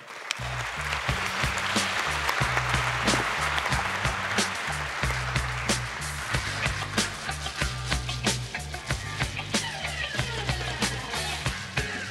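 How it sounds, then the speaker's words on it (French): Sustained audience applause at a forum as speakers are called up to join the host, with a steady wash of clapping and a low rhythmic hum running underneath. "applaudissements."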